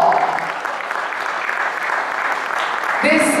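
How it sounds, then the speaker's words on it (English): An audience at a national launch event for the all-new Tata Intra compact truck in Chennai applauds in a loud sustained wash of clapping, with a voice speaking over it near the end. "let's hear a bigger round of applause"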